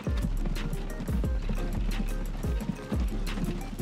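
Horse-drawn carts in the video game Transport Fever 2, with steady rhythmic hoof clip-clops layered over ratcheting wooden-wheel and gear clatter, continuous and fairly loud.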